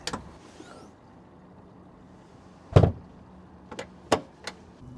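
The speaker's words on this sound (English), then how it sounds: "These are the only latches I know of on the deck that you can actually open up with your foot." A few sharp metallic clicks and clunks, close and isolated, spaced across a quiet background, like a latch being popped open: a foot-operated deck latch on a World Cat 260CC-X boat.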